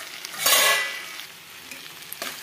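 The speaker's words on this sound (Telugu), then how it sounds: "ఈ విధంగా కాసేపు వేగనిద్దాం." Broad beans, potato and tomato frying together for a gravy curry, with a loud burst of sizzling and stirring near the start that settles into a softer, steady crackle with a few clinks of the spoon.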